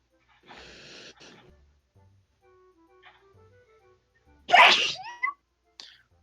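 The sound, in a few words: sneeze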